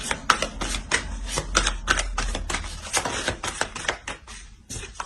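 Tarot cards are drawn and laid on a surface during a reading, giving a close run of crisp taps, slides and flicks in an irregular rhythm with no talk.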